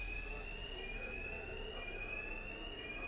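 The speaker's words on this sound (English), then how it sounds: "Two-Face's thugs won't hear me over the alarm." Alarm ringing in the video game Batman Arkham Knight: a continuous high electronic tone with faint repeating pulses, steady and moderately quiet throughout, heard alone without talk.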